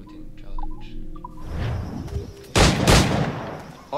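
Gunfire in the Assassin's Creed 4 Black Flag shooting challenge: a burst of loud shots follows some game music and ambient noise, with another sharp shot at the very end.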